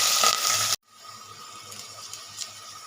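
Chopped onion and green chillies hit hot oil in a pan with cloves and bay leaves for a chicken gravy, giving a loud burst of sizzling that quickly settles into a steady, softer crackle.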